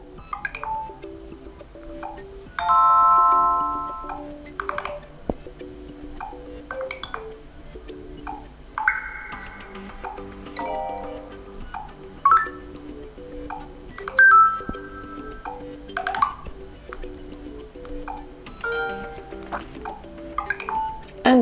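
A run of voicemail notification tones on an Alcatel 3V phone previewed one after another: bright chimes, pings and short melodic jingles, each alone with brief gaps between them.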